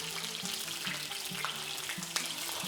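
Vegetables and herbs such as basil and coriander, with a little lemon, sizzle and fry steadily in a pan, with a dense continuous hiss and occasional soft clinks from stirring, close and fairly loud.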